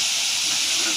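Pancit sautéing with soy sauce in a pan: a loud, continuous close-up sizzle and hiss lasting the whole moment, without talk.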